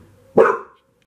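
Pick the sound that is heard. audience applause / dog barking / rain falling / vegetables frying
dog barking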